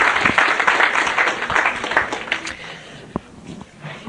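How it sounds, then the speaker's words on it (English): Audience applause at a talk on parenting, a broadband wash of clapping that starts full and thins out over about four seconds, with a few isolated sharper claps near the end. "A round of applause for Ellen."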